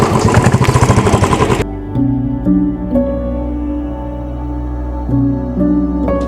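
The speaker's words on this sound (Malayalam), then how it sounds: "ഒരു ടീം വരുന്നുണ്ട് കേട്ടോ ബൈക്കിൽ" A group of motorcycles approaching on a hill road: a burst of rapid, throbbing engine pulses gives way to a steadier droning engine tone, fairly loud throughout.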